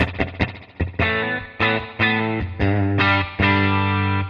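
Electric guitar notes and chords through a Mooer Prime M2's Twin Reverb amp model, a clean tone with a touch of spring reverb, played in separate strums that ring out, loud and alone.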